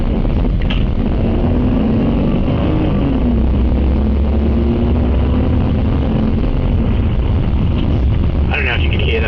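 A BMW E46 323i with an inline-six engine running: a steady, loud, raspy droning hum with some wind noise, while a person talks over it.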